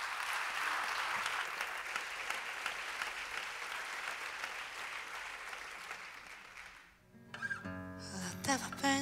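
Strong applause from a gala audience at a season-presentation show, dense steady clapping for several seconds that fades out as music begins.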